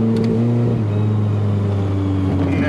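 A car engine runs at steady high revs, sounding rough and breaking up as it heats, a loud, droning tone with a slight pitch drop partway through, heard up close with no talking.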